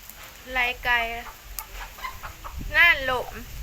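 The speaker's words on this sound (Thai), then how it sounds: "ไล่ไก่" Chickens clucking in two short, fairly close bursts, with a quieter stretch of background noise between them.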